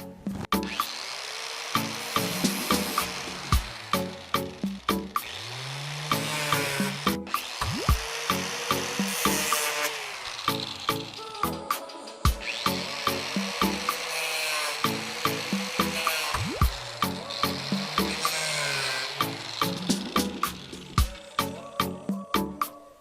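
Pieces are cut off an MDF in-ceiling speaker box with a power tool, giving loud, close bursts of buzzing cutting broken by sharp clicks and brief pauses.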